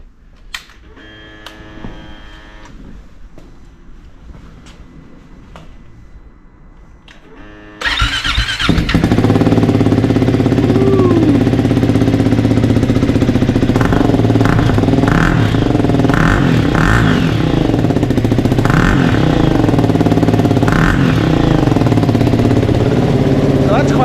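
A Triumph Scrambler 400X motorcycle fitted with a new exhaust can: some quiet clicks and clatter, then the engine fires up and settles into a loud, steady idle with short revs, close by.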